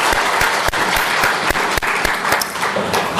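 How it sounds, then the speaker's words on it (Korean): A Korean church congregation breaks into applause during a service, brisk and loud clapping with a few sharper individual claps standing out over about three seconds. "하나님께 영광의 박수를 보내겠습니다"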